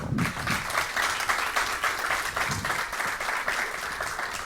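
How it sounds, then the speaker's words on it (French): A school quiz match audience applauds the reserve players of a lycée team, a dense, even wash of clapping from a crowd that holds steady at moderate distance throughout. "Mesdames et messieurs, je vous demande de les applaudir"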